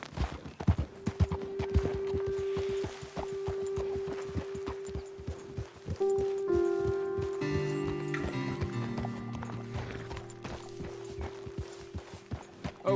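Horse hooves clip-clop steadily in Red Dead Redemption 2, a close, regular walking rhythm of distinct strikes continuing throughout, with a sustained tonal music bed rising beneath and no speech.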